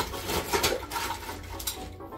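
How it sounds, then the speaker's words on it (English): Ice scooped into a cocktail mixing glass for a bourbon Old Fashioned, with close, soft clinks, scrapes and rattles of cubes shifting against glass. "Grab one scoop of ice."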